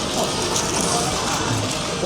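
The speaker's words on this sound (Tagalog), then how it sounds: "Umuulan pa rin dito sa labas." Steady rain falls outdoors on a street in Akihabara, Japan, a continuous even hiss of drops close by with no talking.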